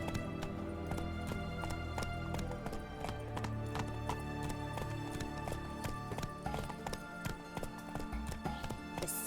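Roach the horse gallops in The Witcher 3, hooves clip-clopping in a fast, even rhythm, loud and close, over a sustained tonal music bed.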